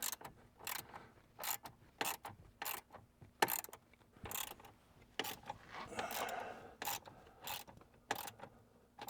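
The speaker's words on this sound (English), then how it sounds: "we're going to take this nut back here and we're just going to loosen it up" A hand ratchet loosens an 8mm nut on a Jeep JL hood, giving short, quiet, close bursts of clicking strokes at an uneven pace, with no talk.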